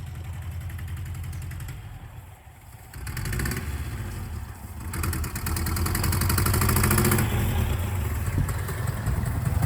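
A 1984 Subaru Brat that sat unused for ten years runs under its own power. Its engine idles close by with a steady, rough drone, then swells and revs louder toward the end.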